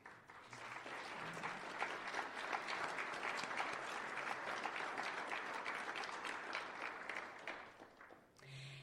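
Audience applause for the CSI board of directors at a members' event: steady, dense clapping from a roomful of people lasting about eight seconds, then trailing off briefly at the end.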